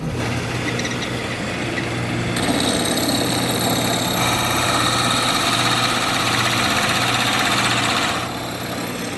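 A Shopsmith lathe spins a spalted walnut bowl at its slowest speed while a tool takes light cuts, giving a loud steady mechanical hum and rumble with a brief shift in tone partway through, close by and without talking.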